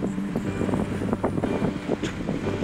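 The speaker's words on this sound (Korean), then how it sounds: "바람이 너무 불어." Strong wind buffets the microphone on a fishing boat at sea off Chuja Island in snowy weather, a loud steady rush with gusty bursts and no speech.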